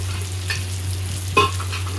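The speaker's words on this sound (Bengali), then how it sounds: "পেঁয়াজটা দিয়ে আমি এটাকে নাড়বো।" A large chopped onion fries in a pan as it is stirred: a close, steady sizzle with a couple of brief scraping stir strokes cutting through, and no voices.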